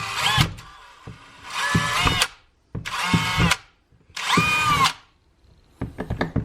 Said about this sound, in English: I have the smallest drill bit that I could come across.